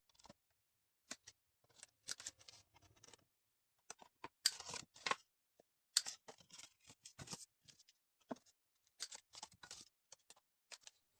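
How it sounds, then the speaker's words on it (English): Scissors snipping the corners of a paper envelope, a quiet series of short crisp cuts and paper rustles in irregular bursts, close up with pauses of silence between them. "Now I'm going to round the corners of the envelope."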